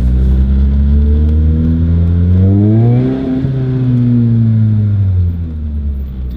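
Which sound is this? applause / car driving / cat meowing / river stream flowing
car driving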